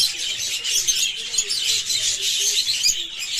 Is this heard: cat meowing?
no